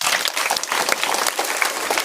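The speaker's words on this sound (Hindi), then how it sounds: "आप लोग ताली बजाइए।" Audience clapping in a classroom quiz setting, a dense burst of many hands applauding at close range for a couple of seconds without talk.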